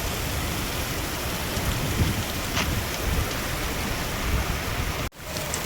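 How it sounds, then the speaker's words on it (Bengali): Torrential downpour in an open outdoor setting, a dense steady roar of rain hitting the ground, continuous and loud, with a brief dropout near the end. "মুষলধারে বৃষ্টি হচ্ছে।"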